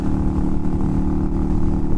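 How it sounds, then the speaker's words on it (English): A motorcycle cruises fast on a highway at around 65 to 70 miles an hour, its engine a loud, continuous drone with a steady roar and no talking. "Here we go, 65, 70 miles an hour, first time on a motorcycle that fast on a highway"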